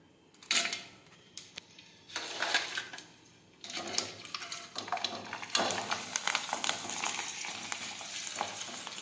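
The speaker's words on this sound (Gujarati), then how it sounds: "હવે આપણે તેમાં ફરફર છે તે તળી લેશું" Rice and sago papad fryums fry in hot oil in a wok, giving irregular bursts of crackling and bubbling that build from sparse pops to a denser, fairly close sizzle.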